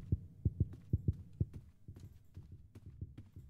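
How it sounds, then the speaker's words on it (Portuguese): Heartbeat in the Roblox horror game Doors, a series of deep, muffled double thumps in a steady rhythm, fairly close and heavy at first, then softer and less regular. "Esse coração batendo tá bizarro"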